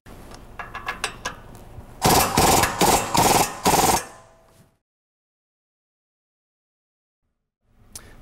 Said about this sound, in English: We've got two bolts up here that we're gonna loosen.